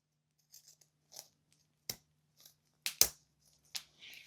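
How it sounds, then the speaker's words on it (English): Pinking shears trim zipper tape on a sewing project for a crossbody phone sling bag, a handful of sharp, separate snips and crunches with short quiet gaps between them, close and fairly faint. "Actually, let's use pinking shears."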